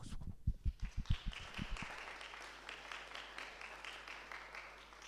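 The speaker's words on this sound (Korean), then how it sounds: "박수 박수." A church congregation breaks into applause, several loud claps at first that soften into scattered, quieter clapping in a reverberant room.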